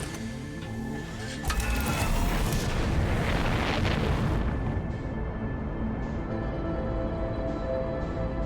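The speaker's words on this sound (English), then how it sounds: "This is a remix of the sun exploding music." A rumbling, swelling musical track from the XCOM video game plays loud and dense, building around a low roar before thinning out to sustained tones.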